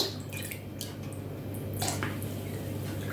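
Water poured into a bowl of sugar while making elderflower kvass, a soft, quiet splashing and dripping trickle heard alone for a few seconds.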